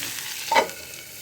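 Onions sauté in oil in a pan with soft, quiet sizzling and a brief scrape of stirring near the middle, all faint and close without any talking.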